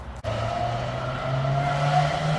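A passing car's engine drones with a steady tone that rises slightly in pitch, mixed with tire noise on the road, loud and continuous after a brief click at the start.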